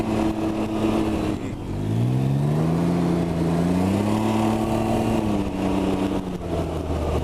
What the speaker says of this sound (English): It's just the CVT can be a little drony on street speeds like right now.